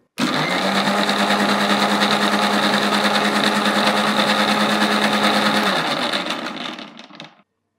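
A mixer grinder whirs loudly and steadily for several seconds, blending a thick drink with almonds, then winds down and stops.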